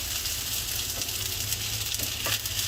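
Egg white sizzles and fries in a hot wok for egg fried rice, a steady loud hiss with faint scraping stirs throughout, no voices.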